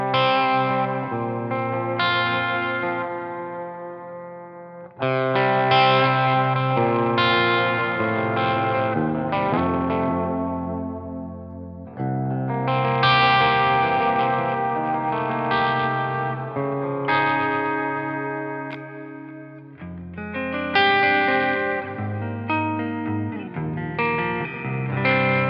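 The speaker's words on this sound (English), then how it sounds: "I'm gonna chuck in some reverb and delay so you can get an idea of what it sounds like." An electric guitar plays through a Victory amp's crunch channel with the gain around 9 o'clock, giving light breakup with added reverb and delay; warm, full chords and phrases ring out in several bursts separated by brief pauses.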